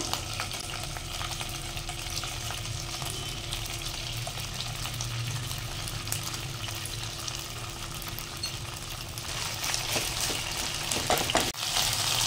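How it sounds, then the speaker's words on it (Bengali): Chicken pieces fry in a pan with a steady, dense sizzle that holds throughout, followed near the end by a few clatters and stirring noises. "এবার এই বাকি চিকেনগুলোকে আমি একইভাবে এখানে ফ্রাই করে নেব।"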